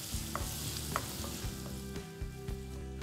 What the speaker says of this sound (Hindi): कढीपत्ता, मिरची आणि लसूण। याला व्यवस्थित परतून घ्यायचंय।